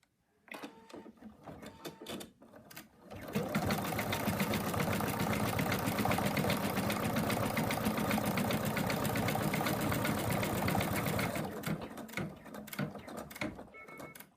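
An embroidery sewing machine stitches the placement line for the other leg of a frog design. After a few seconds of lighter clicking, it runs at a steady, loud, rapid mechanical chatter, then drops back to quieter clicks near the end.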